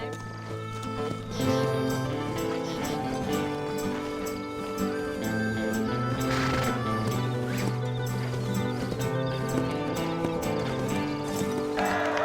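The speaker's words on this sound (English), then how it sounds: "My cousin's horse is racing" Rhythmic hoofbeats of a galloping racehorse in Red Dead Redemption 2, under music and game sound effects, continuous and fairly prominent throughout.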